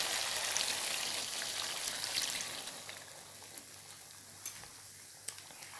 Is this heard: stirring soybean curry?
yes